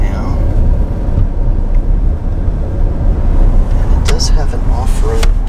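A 2022 Rolls-Royce Cullinan Black Badge with all-wheel drive rolling off-road, a steady low rumble of engine and tyres on rough ground, with wind buffeting and a voice speaking over it near the end.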